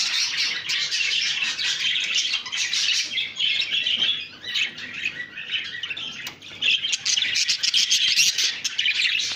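Pet birds kept in a large flight cage chirp and tweet in a dense, continuous chorus, close and fairly loud, with occasional squawks and no talking.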